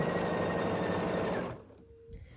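Sewing machine stitching long 43 to 44 inch quilt fabric strips together with a quarter-inch presser foot, a steady close mechanical whir running continuously before stopping abruptly near the end.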